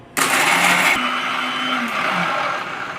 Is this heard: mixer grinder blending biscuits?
yes